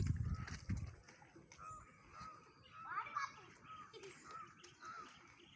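Crows caw in a few loud, scattered calls beside the Vembanad backwater lake, with boats and other birds around, over a steady outdoor background with some low rumble at the start.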